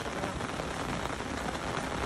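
Steady rain patters on a surface along a muddy hill trail in Baguio, Benguet, Philippines, a dense, even hiss of drops with no pauses.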